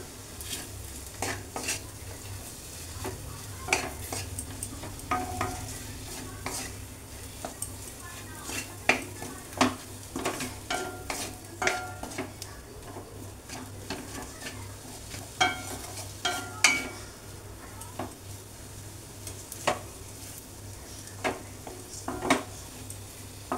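Omelette cutlet mixture frying in a pan, with a steady sizzle under frequent sharp clinks and scrapes of a spatula stirring against the metal, close and continuous for over twenty seconds.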